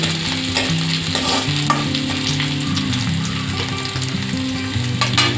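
Garlic, ginger and green chili fry in hot oil, giving a steady, dense sizzle with occasional stirring scrapes. It is loud and close and runs continuously without any talk.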